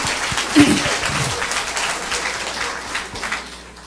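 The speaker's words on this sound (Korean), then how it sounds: "큰 박수로 부탁드리겠습니다" Applause from an audience at a church special gathering, a steady wash of clapping that rises sharply near the start and then holds at an even level throughout.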